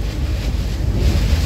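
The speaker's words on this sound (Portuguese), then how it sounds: "É muito vento." Strong wind roars around a truck hauling a container, a loud, steady, broadband rush buffeting the cab with no talk over it.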